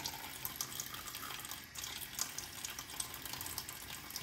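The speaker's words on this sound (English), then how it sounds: "Let me put a little water on the face now." Tap water runs steadily and is splashed onto the face during a wet shave with a Henson razor and Van Yulay Baby Fresh soap, making a continuous close hiss with small splashes.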